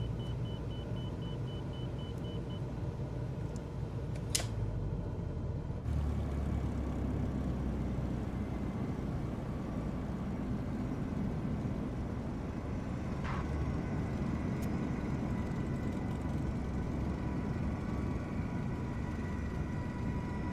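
A Japan Air airliner lands on runway 16 right in Microsoft Flight Simulator, giving a steady, loud engine and rolling rumble that runs unbroken throughout, with a couple of brief sharp clicks early on.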